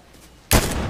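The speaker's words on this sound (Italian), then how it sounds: "Io sparo agli altri intanto." A sudden loud burst of gunfire in the Fortnite battle royale video game erupts partway through, sharp and close, then rings on briefly.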